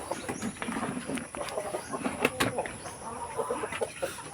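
Several chickens cluck and chatter continuously nearby, with occasional sharper calls over a steady background hiss.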